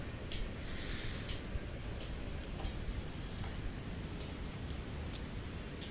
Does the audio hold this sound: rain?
yes